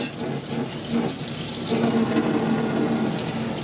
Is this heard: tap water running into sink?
yes